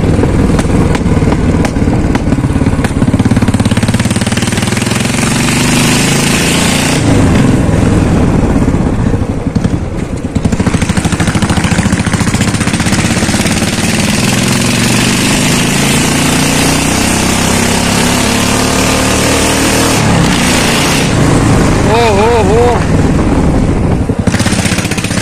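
A Royal Enfield Classic 350 engine runs with its silencer removed for a long stretch, a harsh, rapid, chattering roar close up, with small shifts in pitch and no talking.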